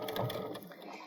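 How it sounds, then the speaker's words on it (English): A sewing machine stitches drawstring backpack straps in place at a 3/8 inch seam allowance, a steady close mechanical whir with rapid needle pulses, loud at first and easing slightly toward the end. "we're going to stitch those straps in place"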